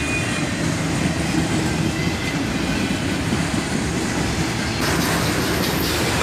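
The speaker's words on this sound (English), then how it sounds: "A single ET44AH leads this loaded auto-rack train southbound." A loaded southbound auto-rack freight train led by a single ET44AH locomotive rumbles past close by with a constant heavy roar and faint clickety-clack of wheels, steady and loud throughout.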